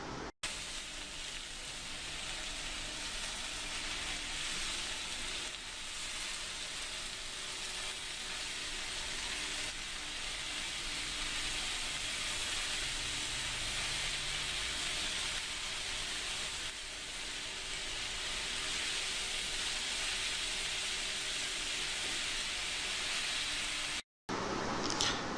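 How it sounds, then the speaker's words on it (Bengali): Red amaranth greens (lal shak) stir-frying in a pan give a steady, broadband sizzling hiss that holds nearly unchanged and fairly loud throughout, with a brief dropout near the end and no talking. "এরপর শাকগুলোকে এভাবে ভালোভাবে নাড়াচাড়া করতে হবে।"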